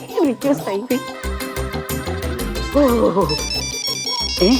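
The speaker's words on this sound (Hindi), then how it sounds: "संतोष जी फोन।" A loud musical ringtone plays a bouncy melody with a thumping beat, repeating its tune close by.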